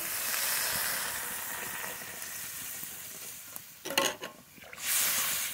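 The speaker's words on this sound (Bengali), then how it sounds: "মশলার সঙ্গে একটু নেড়ে নিয়েছি, এবার জল দিয়ে দেব" Water poured into spices frying in a cooking pan with cumin and green chilli paste, a steady loud sizzle that surges in bursts as the water hits, then a bright hiss near the end.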